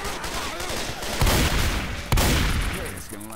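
Gunfire in the video game Left 4 Dead, two loud close shots standing out over a dense, noisy game mix.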